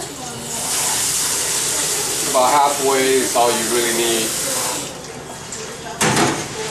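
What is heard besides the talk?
filling a container with cold tap water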